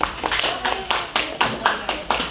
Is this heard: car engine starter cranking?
no